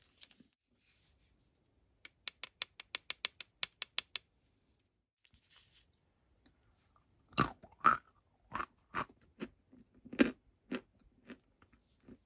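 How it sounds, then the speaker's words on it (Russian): Barsuk brand edible chalk crunched and chewed close to the ear: a quick run of about ten crisp rhythmic bites, a pause, then louder, slower irregular crunches, set against near silence with no talking. "Мелок довольно-таки хрустящий. Хрустеть, можно сказать, продолжительное время."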